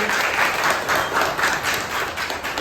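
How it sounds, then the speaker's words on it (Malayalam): Steady applause from a small group praising a young girl named Naisha after she tells a story she made up herself, dense clapping that holds at an even level for its full length with no talk. "നല്ല ക്ലാപ്പ്"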